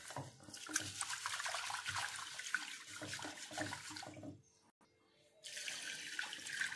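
Urad dal being rinsed clean in water in a home kitchen, with steady splashing and running-water sounds broken by a brief quiet pause before the washing resumes close by.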